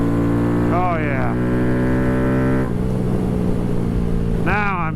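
A Honda Grom motorcycle with a high-compression piston, cam and tune runs steadily on a test ride, its loud, close single-cylinder drone holding near-constant revs and rising briefly in pitch twice as the throttle opens.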